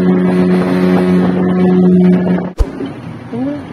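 A speedboat speeds across open sea with a loud, steady engine drone and rushing wind, cut off abruptly near the end by a sharp bump before a short quieter pass.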